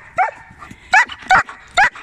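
Dog barking in a pine forest: four sharp, loud barks close by in quick uneven succession, with a quiet background.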